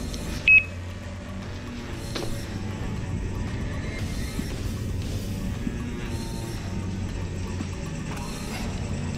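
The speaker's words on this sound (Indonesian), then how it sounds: "apapun yang lewatin sensor dia 5 meter di sekitar dia akan menyebabkan alat itu berbunyi" Ghost trap motion sensor device giving a single short electronic beep near the start, then a steady hum of background noise with faint clatter, no talking heard.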